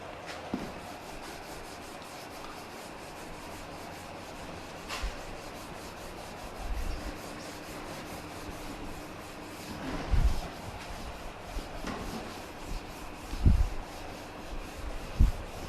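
An object is rubbed by hand in a steady, close scraping rasp that runs continuously, with a few louder scuffs and thumps scattered through.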